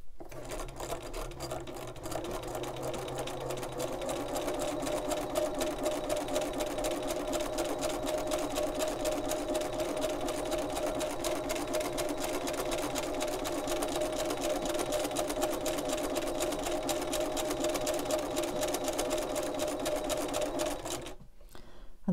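A sewing machine runs steadily at moderate speed during free motion embroidery, a close, continuous rapid whirring chatter that stops abruptly at the end.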